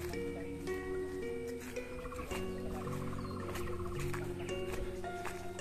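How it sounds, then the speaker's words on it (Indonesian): Odd, repeated bird calls chirp and trill over a busy, tonal background like gamelan music, with bursts of warbling notes coming and going, in a forest on Krapyak hill. "itu ada suara burung dan burung juga suaranya aneh"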